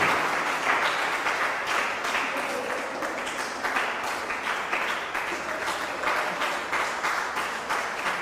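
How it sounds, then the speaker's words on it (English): Steady crowd applause fills a Bible Bee quiz contest between two Ghanaian senior high schools as contestants are welcomed, a dense, sustained wash of clapping from a large audience with no break. "with a round of applause, let's welcome the contestants for Labone Senior High School"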